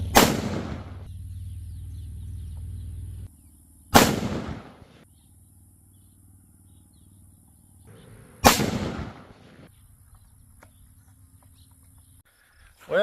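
A rifle fired at a target downrange: three loud, sharp cracks spaced about four seconds apart, each with a ringing decay, and a fourth begins right at the end, with quiet outdoor background between shots.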